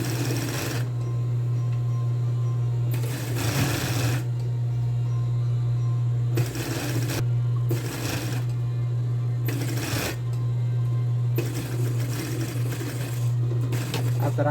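Steady close-up whirr of a sewing machine stitching a dress facing along a pressed fold line, running in several sustained bursts with short pauses and a constant low motor hum underneath.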